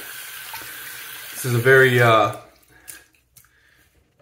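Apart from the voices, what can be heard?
water running from a sink tap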